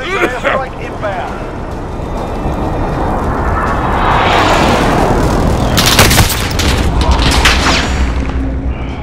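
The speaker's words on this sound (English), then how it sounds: "Friendly precision airstrike inbound." Explosions from a precision airstrike in Call of Duty: Modern Warfare, a loud rolling boom building over several seconds with sharp crackling blasts near the end, amid continuous battle noise and voices.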